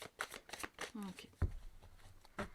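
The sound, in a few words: tarot cards being shuffled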